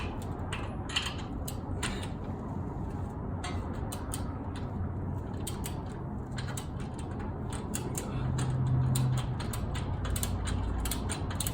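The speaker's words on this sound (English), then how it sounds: "Just so I can get this bolt off." A ratchet wrench works a bolt loose on the shock of a 2017 Toyota Tacoma during a coil swap, with steady clicking passes and some creaking metal over a constant low rumble of background noise.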